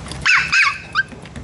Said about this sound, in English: stop the barking. You're gonna scare everybody with that barking.